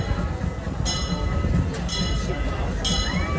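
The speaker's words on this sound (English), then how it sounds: "I hear the train. The train's a-coming." The E.P. Ripley steam train of the Disneyland Railroad rumbles in as it arrives, with clinks and bell-like tones over a steady low rail roar while people talk nearby.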